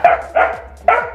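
A dachshund at a kennel barks three times in a steady rhythm, loud and close, with short pauses between the sharp yaps.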